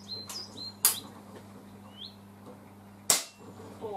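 Two sharp, loud cracks from a Retay T20 unregulated air rifle fire several seconds apart outdoors, with faint bird chirps and a low steady hum between the shots.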